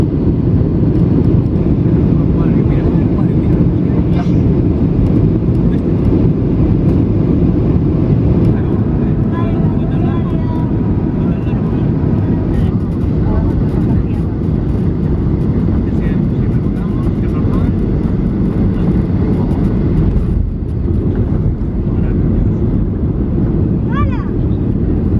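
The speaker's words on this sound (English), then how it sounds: "Cabin crew, seat for landing, please." Inside an airliner cabin during landing, a loud, steady low engine and air roar fills the space without letting up, with faint rattles and a brief dip near the end, and voices speak faintly beneath it.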